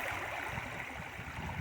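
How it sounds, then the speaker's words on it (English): A creek pours into the Smith River in a redwood forest, a steady broadband rush of flowing water heard close and continuous. "the wonderful sound of the creek feeding the Smith River here"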